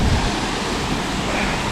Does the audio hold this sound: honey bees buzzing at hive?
no